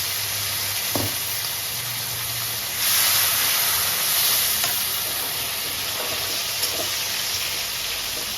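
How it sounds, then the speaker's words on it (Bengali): Water splashed into hot chilli-powder spice paste in a pan for Bengali mustard prawns, giving a steady close frying sizzle that swells into a louder hissing burst of steam midway, then settles back. "অল্প একটু জল অ্যাড করবো, মশলাটা যাতে পুড়ে না যায়।"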